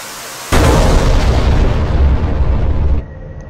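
An AGM-65 Maverick missile strikes its target in DCS as flown from an AV-8B, a sudden loud explosion followed by a heavy rolling roar that sustains for about two and a half seconds before dropping back to cockpit hum.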